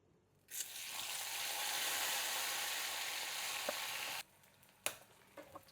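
Loud, steady sizzling of ivy gourd frying in hot oil with asafoetida, starting abruptly and continuing for several seconds before cutting off, followed by a few clinks.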